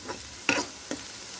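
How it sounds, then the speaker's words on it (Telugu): Bitter gourd slices fry in oil Kerala style, a faint low sizzle broken by two brief, sharp scrapes of a spoon stirring the pan. "చాలా దగ్గరికి వేగుతున్నాయి బ్రౌన్ కలర్ కూడా రావడం స్టార్ట్ అయింది"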